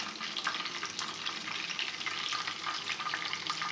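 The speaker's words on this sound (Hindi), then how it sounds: "देखिए आस्ता आस्ता ये फ्राई हो रही है चर्बी, घी हमारा गर्म हो चुका है।" Mutton fat fries in hot ghee on a tawa, giving a continuous close, crackling sizzle with scattered pops, steady and fairly quiet with no voices.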